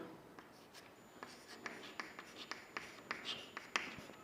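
Pen writing C++ switch-case code by hand on paper, a steady scratching with short strokes and taps, close and fairly quiet, no talking.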